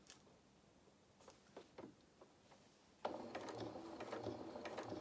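A sewing machine stitches fabric for a toy cow's head, first a few scattered clicks and ratcheting ticks, then after a pause a sustained run of fast mechanical whirring and clatter close by.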